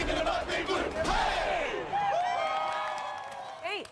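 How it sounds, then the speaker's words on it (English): Auburn football fans roar a War Eagle battle cry in a stadium, a loud sustained crowd yell rising and falling over about four seconds, with shrill whoops and whistles cutting through near the end. "the War Eagle, which represents the team's battle cry"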